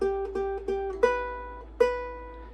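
Single plucked ukulele notes pick out a riff: a quick run of repeated notes, then two longer ringing notes, clean and close with no talking.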